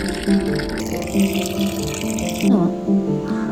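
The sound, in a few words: water poured into clay pot with coriander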